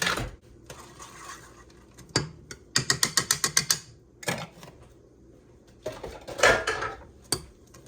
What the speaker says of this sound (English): And this, you do want to stir. So I'm going to get my whisk out.